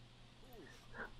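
A puppy in The Sims 4 lets out a brief, faint whimpering whine followed by a soft yip, quiet and short against a low steady hum.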